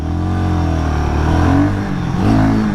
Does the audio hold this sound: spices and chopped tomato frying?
no